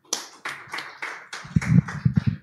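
Hands clap in short, separate bursts at a Tanzanian human rights report discussion, the claps loud and near, first spaced apart and then quicker and denser toward the end, with no voices.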